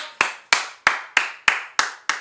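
Steady, evenly spaced claps close by, seven crisp hits in a regular rhythm, like one person or a small group clapping in time at Busch Gardens Williamsburg, with no talking.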